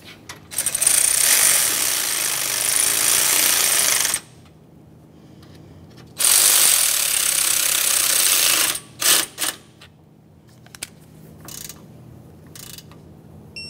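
A power ratchet or impact tool drives the radiator mounting bolts on a 1994-1997 Honda Accord 2.2L, with two long, loud buzzing runs separated by a pause, followed by a few short bursts nearby.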